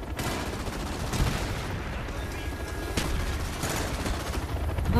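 Sentry gun in Call of Duty: Black Ops firing in dense bursts amid a continuous roar of game gunfire and booms, loud and close, with a few sharper cracks standing out.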